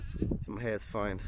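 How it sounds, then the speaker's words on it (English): Sheep in the Mongolian countryside bleat twice in the background, two wavering calls close together while a person talks over them. "I'm not sure if you can hear the sheep in the background."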